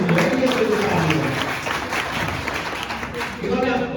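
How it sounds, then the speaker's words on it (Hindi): Applause and clapping from a crowd welcoming a JCB operator at an outdoor gathering, a steady dense roar lasting throughout, loud and close. "ताली और जोर दीजिए।"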